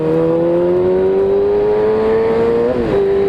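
A new motorcycle engine running at idle, loud and close, a steady tonal drone with a slight rise in pitch and a brief wobble near the end, no talk.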